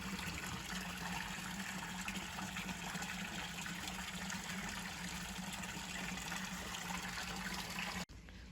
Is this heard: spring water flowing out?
yes